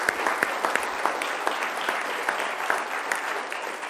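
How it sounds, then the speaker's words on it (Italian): An audience applauds for a guest on a live Italian sports broadcast, a steady wash of clapping with sharper individual claps standing out, fairly close and even in level. "un applauso che ti arriva da Casa Caritas di Chiavari"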